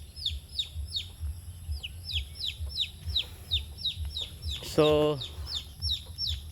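A young chick peeps over and over in a rapid, steady series of high chirps, close by. A hen's short clucking call cuts in once partway through, while low background rumble runs underneath.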